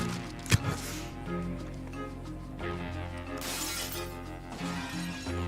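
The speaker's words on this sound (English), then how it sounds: "It's making window breaking noises" Window glass shatters in Red Dead Redemption 2, a sharp crash near the start followed by scattered tinkling debris over a continuous game soundscape with ambient music.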